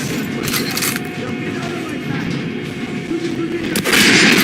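Gunfire aimed at an armored enemy in the shooter game Metro: Last Light Redux: loud, dense booming shots rolling continuously, with a sharper burst near the end.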